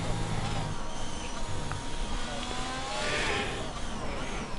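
A Ferrari Formula 1 car engine from a racing video game screams steadily on a flying lap at the Spanish GP, a constant high whine with shifting pitch under commentary.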